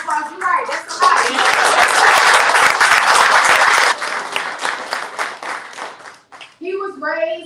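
Audience at a book presentation breaking into loud, close clapping for several seconds, bracketed by speech before and after as the applause tapers off.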